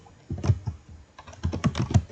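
Typing on a computer keyboard while running a MySQL secure installation on an Ubuntu Server 20.04 machine: two short bursts of close, clicky keystrokes separated by a pause, with no talking.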